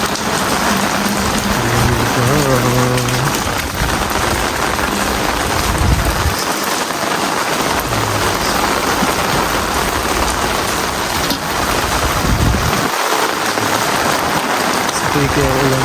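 Heavy typhoon rain (Typhoon Shanshan) pours steadily throughout, a dense constant roar with occasional low rumbles from passing traffic and faint voices underneath.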